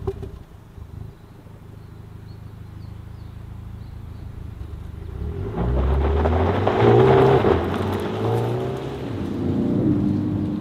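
A BMW M135i xDrive drives on a local road. A muffled cabin hum gives way to a louder engine surge as it accelerates, then holds a steady driving drone.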